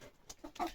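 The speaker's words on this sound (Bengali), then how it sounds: "এগুলো হচ্ছে আমার নতুন মুরগি" Farm chickens, newly bought hens, give a few short, close clucks in quick succession, fairly quiet with no talk over them.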